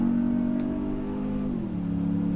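A 702-horsepower 2021 Ram TRX pickup engine revs hard under throttle, a loud, steady low roar with a pitch shift near the end, close by and without talk.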